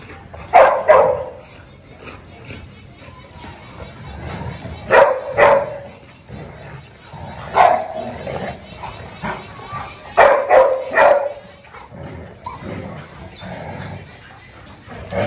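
A dog barks and growls in short bursts while playing with its toy, fairly close and loud, repeating every few seconds with quieter whimpers and panting between, and someone talking in the background.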